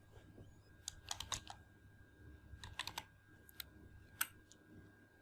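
Quiet computer keyboard typing: short bursts of soft key clicks come in small clusters with pauses between, close and faint against a low room hum.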